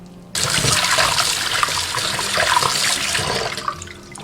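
Cooked dried bamboo shoots are rinsed under running water in a kitchen, giving a steady, close splashing flow that starts suddenly and continues for about four seconds.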